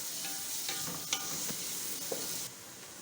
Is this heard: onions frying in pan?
yes